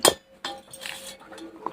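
A metal kadhai cooking pan clinks as it is picked up in a home kitchen, with a sharp clink at the start followed by a few softer metallic knocks and a light ring.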